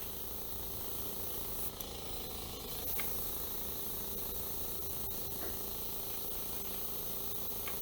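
An airbrush sprays paint that is not thinned enough, giving a steady, fairly faint broadband hiss that runs continuously with small fluctuations.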